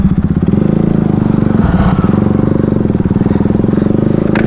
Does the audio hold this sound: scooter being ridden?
yes